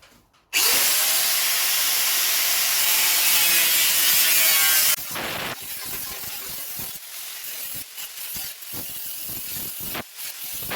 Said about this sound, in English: I'm just going to lick it off with a grinder, I think